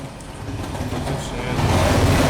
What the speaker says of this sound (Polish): Pociąg jedzie, chowaj się, chowaj się.